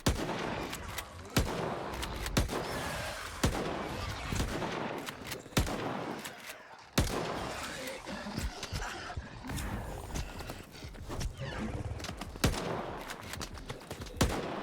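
Rapid gunfire in S.T.A.L.K.E.R. 2 crackles throughout, with bursts of automatic shots and sharp single cracks over a dense, noisy background.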